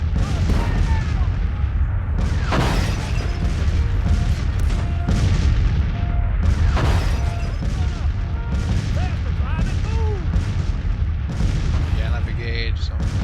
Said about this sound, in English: They're just saving their strength now, using their artillery to weaken me up.